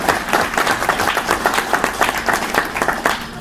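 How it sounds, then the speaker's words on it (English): An audience at a political speech breaks into sustained applause, many hands clapping in a dense, even patter that stays loud for the whole stretch with no clear voices over it. "You can give an applause for that."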